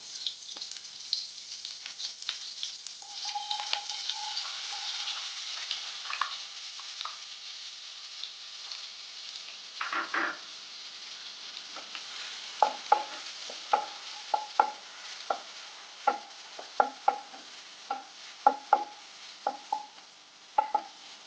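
Finely chopped onion sizzles and fries in a pan for paneer butter masala, a soft steady hiss with a spoon stirring and tapping intermittently, clicks growing more frequent toward the end.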